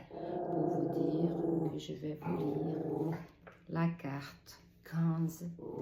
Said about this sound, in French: c'est Vénus, c'est mon chien qui voit des choses dehors et qui de temps en temps elle fait un bruit